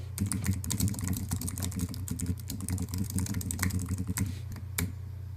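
Rapid, irregular clicks of fingers typing on a computer keyboard, close and fairly quiet over a low steady hum, with brief pauses between bursts of keystrokes.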